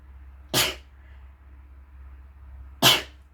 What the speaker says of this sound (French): je suis désolée, je vais éternuer.